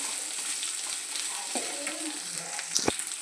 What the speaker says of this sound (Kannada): ಈಗ ಇದನ್ನು ಒಂದು ನಿಮಿಷ ಇದನ್ನು ಫ್ರೈ ಮಾಡ್ಕೋಬೇಕು ಎಣ್ಣೆಯಲ್ಲಿ